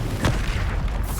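A Confringo spell explosion in the video game Hogwarts Legacy, one short, heavy boom with a low rumbling tail, loud and close.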